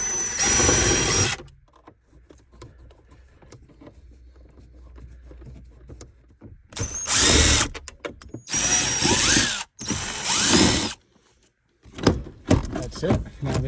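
Bursts of a power drill or driver backing out 1.5-inch dashboard screws on a 3rd-generation Camaro, several whirring runs separated by quiet handling and clatter, close and fairly loud.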